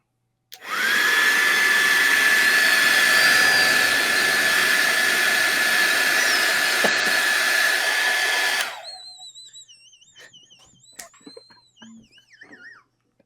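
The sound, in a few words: hair dryer running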